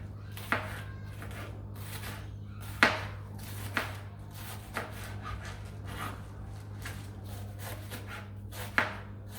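Kale being chopped finely with a knife on a board for sukuma wiki, heard as scattered crisp cuts with soft scraping between them over a low steady hum, fairly quiet and close.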